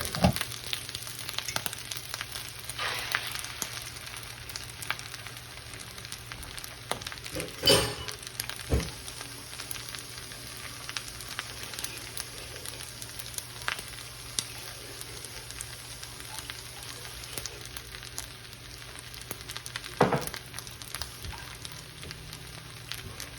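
Eggs frying in a generous amount of oil in a pan, a steady crackling sizzle with scattered pops and an occasional sharp clink of a utensil.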